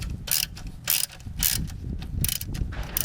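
A car jack lowers the engine of a Dodge Neon during an engine mount replacement, giving off repeated ratcheting clicks and metallic bursts in an uneven rhythm, close and fairly loud, with no talking.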